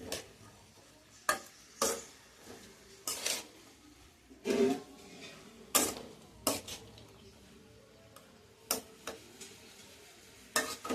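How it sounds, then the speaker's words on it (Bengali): A spatula stirs water spinach and fried potatoes in a pan over a low flame, giving sharp, intermittent scrapes and clinks at an irregular pace, separated by quiet pauses. "এটা মোটামুটি আমি নাড়াচাড়া করে নিলাম"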